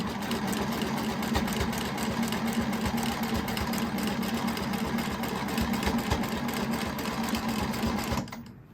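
A sewing machine runs steadily, stitching scrap quilt fabric in one continuous close burst of rapid, even whirring that cuts off near the end.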